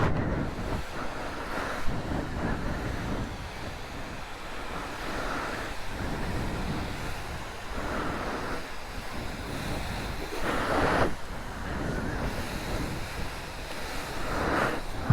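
A car wash wand sprays spot-free rinse water over a GY6 49cc four-stroke scooter, a steady broad hiss that swells and eases as the spray moves across the bodywork.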